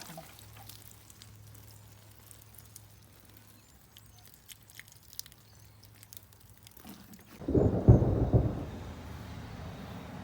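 A loud, deep rumble of thunder rolls in after a stretch of quiet outdoor garden ambience with a faint low hum, then slowly fades.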